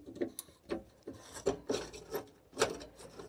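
Screws being backed out with a Torx driver on a Dometic gas hob in a camper van, heard as a few short raspy scraping bursts at close range, quiet, with no talking.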